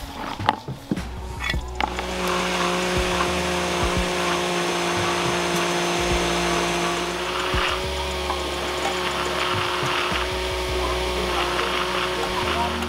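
Electric blender whirring through coconut for Ghanaian coconut ice cream, starting after a few clunks and then running as a steady, loud motor drone with slight load changes, while a person speaks intermittently.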